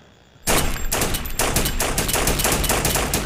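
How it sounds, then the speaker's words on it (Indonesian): Loud, rapid bursts of film gunfire erupt after a brief quiet moment, continuing as sustained overlapping shots. "Eric berusaha menyelamatkan Yuda dari tembakan, dan Eric harus tewas."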